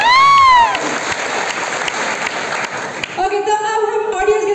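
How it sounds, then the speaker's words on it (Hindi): Crowd at a YouTube creator event in Patna claps briefly in broad, steady applause, with a loud voice over the start and musical tones or speech carrying on toward the end. "आप सबके लिए एक बार ताली बजा दे।"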